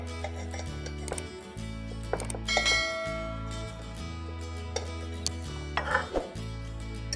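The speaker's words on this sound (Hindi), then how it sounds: "अब इसको हल्के हल्के हाथों से चलाएंगे।" A cooked mixed-vegetable tahri being gently stirred in a pressure cooker, with a spoon scraping and clinking against the metal pot in soft, irregular touches over a low steady hum.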